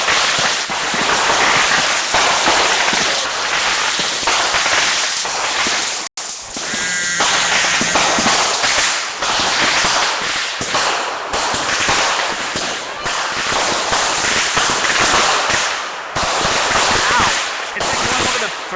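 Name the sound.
fireworks show exploding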